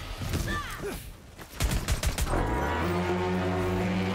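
Video game gunfire from shooting enemies, a quick burst of rapid shots and impacts cut between electronic effects and a rising synth tone, fairly quiet and without talk.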